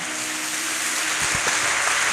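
A church congregation claps in a steady dense wash of applause during a prayer service, continuous and fairly loud for a couple of seconds with no voices over it.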